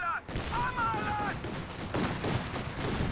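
Calliope rocket artillery barrage in Company of Heroes 2, heard as a dense, continuous rumble of rocket fire and explosions that fills the whole stretch, with a whistling streak early on.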